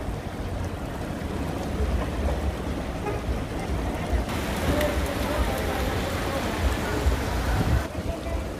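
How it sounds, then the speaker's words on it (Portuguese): Heavy rain in Santana do Ipanema, in the Alagoas backlands of Brazil, hisses in a dense, even wash that swells louder midway, with a low rumble underneath. "Muita chuva no sertão aqui alagoano"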